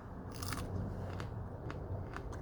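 Crunchy bites into a thick-walled Erotica pepper, several sharp crisp snaps near the mic, standing alone with no talk over a steady low room hum.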